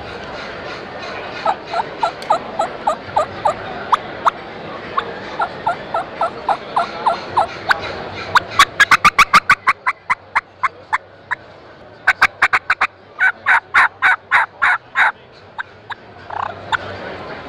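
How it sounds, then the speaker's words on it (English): Hen turkey calls made on the WoodHaven Black Death three-pack mouth calls, rapid close yelps and bursts of cutting in uneven series, loud and alone without speech. "With this 3-pack, you can sound like 3 different hens. You have a very wide, versatile range of turkey sounds."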